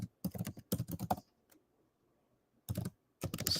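Bursts of fast typing on a computer keyboard, crisp close clicks in two clusters separated by a quiet pause of about a second and a half.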